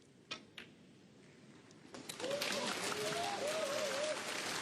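A snooker crowd at the Xi'an Grand Prix bursts into applause for a century break, rising from a few scattered claps into sustained, moderately distant clapping while a faint tonal sound drifts above it.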